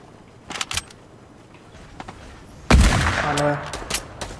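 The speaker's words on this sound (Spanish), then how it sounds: "Da miedo, ahora sí, disparos." Gunfire in the Fortnite Battle Royale video game: a few scattered shots early on, then a loud burst of rapid shooting with echoing tails that continues for a couple of seconds.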